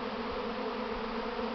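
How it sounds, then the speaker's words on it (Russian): A swarm of honeybees fills the air with a dense, steady drone, unbroken and fairly loud, with no voices over it. "много-много пчел в небе"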